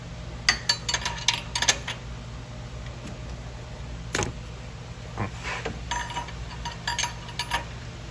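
A metal wrench clinks and clatters in scattered light taps and knocks as parts are handled on a workbench during a component assembly, close and fairly quiet.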